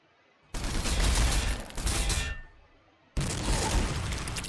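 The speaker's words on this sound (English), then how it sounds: "my shooter boys can just stand here and shoot" Ork shoota boys firing in Warhammer 40,000: Sanctus Reach, a loud, dense fusillade of rapid gunfire bursts that breaks off briefly and then resumes just as heavy, with no voices over it.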